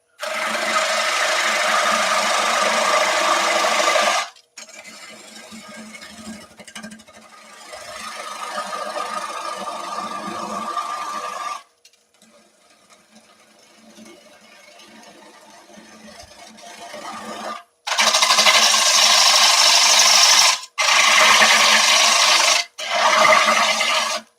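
A woodturning lathe hogs out timber for a handled bowl, the tool scraping and rasping loudly in long bursts with a quieter spell in the middle, then three sharp, loud cuts near the end.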